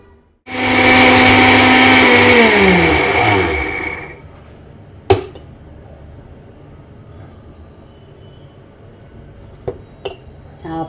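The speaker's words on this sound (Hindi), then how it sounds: "अभी मिक्सी में डाल लेती हूँ थोड़ी थोड़ी करके, थोड़ी सी पीस के देखती हूँ कि कैसी पीसती है मिक्सी में।" An electric mixer grinder whirs loudly for about four seconds while grinding ajwain seeds, its motor pitch sliding down as it spins to a stop, followed by quiet room tone and a few sharp clicks.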